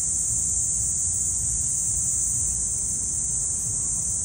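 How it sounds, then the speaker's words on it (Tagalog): Crickets chirping loudly outdoors on an overcast day, a dense, steady high-pitched trill that holds constant and alone throughout. "Pakinggan nyo guys, sobrang lakas ng tunog ng mga kuliglig."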